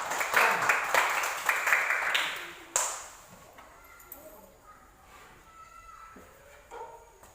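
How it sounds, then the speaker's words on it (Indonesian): A classroom of students applauds together in a dense burst of clapping that stops abruptly, followed by quieter room sounds and faint voices. "Berikan tepuk tangan kepada kami."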